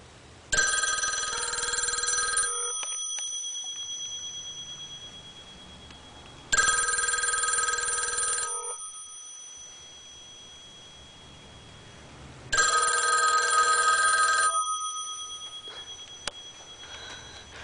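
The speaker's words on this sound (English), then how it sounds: "that's a classic old-fashioned phone ring" A vintage 1962 yellow wall telephone rings with its mechanical bell, three loud, close bursts of rapid metallic jangling, each about two seconds long and spaced several seconds apart, with the ringing tailing off after each burst.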